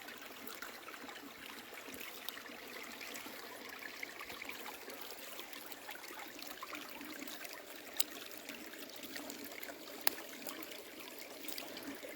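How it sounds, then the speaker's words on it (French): A small stream tumbles through a frosty winter forest in the Morvan countryside, a soft, steady trickle and babble with occasional tiny splashes, faint and continuous with no voices. "joli petit ruisseau qui déboule."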